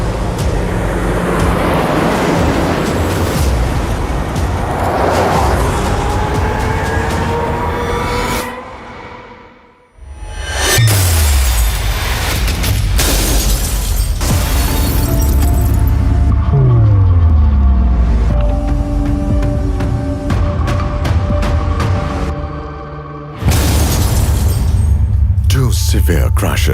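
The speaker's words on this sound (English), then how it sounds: "The same car now faces a second high-severity side impact." Tata Tiago CNG hatchback undergoing a second high-severity side impact crash test, with loud low rumbling and a sharp heavy break around the middle, set under continuous narration and background music.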